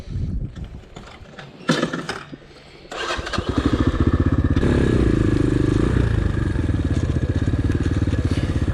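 X-Pro Storm 250 trail motorcycles start up amid some clatter and handling noise, then settle into a loud, close, steady engine drone.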